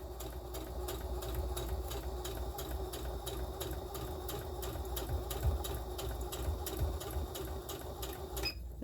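A sewing machine runs steadily while stitching a seam on a child's tote bag, its fast mechanical whir continuous and close for nearly nine seconds before stopping abruptly at the end.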